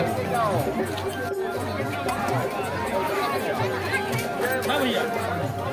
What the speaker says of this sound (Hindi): आज मड़ई एकदम भीड़ है कचाकच भरे है